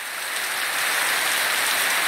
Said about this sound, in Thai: ฝนตกตั้งแต่เช้า